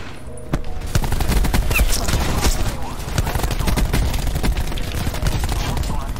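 Dense, rapid gunfire in the video game Black Ops 4, a continuous clatter of shots with sharp individual cracks throughout, loud and busy with no clear pauses.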